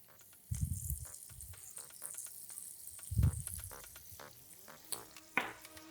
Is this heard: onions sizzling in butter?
yes